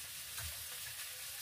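Food frying in a wok of hot oil, a dense steady sizzle close by, loud and unbroken for the whole moment with no talk.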